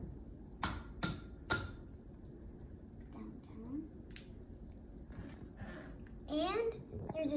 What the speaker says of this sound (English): then we crack the eggs